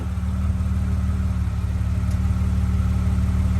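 Car engine idling steadily in a workshop while the vehicle is put into gear during a vibration check, a continuous low hum and rumble, close and even, with no talking.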